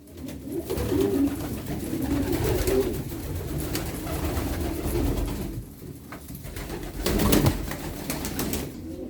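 Macedonian high-flying pigeons cooing steadily in a loft, a dense, close chorus of low throaty coos with no talk.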